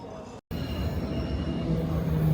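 An underground metro train in Budapest gives a steady, moderately faint rolling rumble with a faint high tone. A short break early on is followed by the noise building slightly toward the end.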